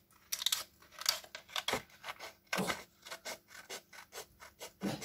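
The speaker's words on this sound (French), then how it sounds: "je vais venir prendre mes ciseaux et je vais venir découper" Scissors snip through excess card on a handmade Easter shaker card with a vellum window, giving a close, quiet series of rhythmic cutting and rasping strokes.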